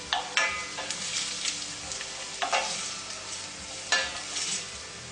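Vegan tofurkey sizzles in a rice cooker, with a crackling fry broken by several sharp scraping stirs, close and loud.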